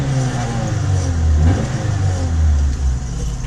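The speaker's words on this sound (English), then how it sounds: "Give you a little rev" A 1991 Honda Civic EF hatchback, set up as a small race car, gets a couple of short, loud revs close by, the engine note rising and falling twice over a steady idle.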